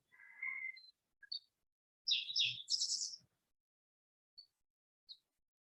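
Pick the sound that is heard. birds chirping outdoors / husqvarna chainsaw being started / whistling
birds chirping outdoors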